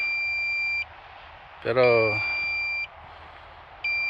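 A drone battery beeps after a firmware update: a steady high electronic tone runs, breaks off, then a short burst of sharper bleeps with a voice, before the tone resumes.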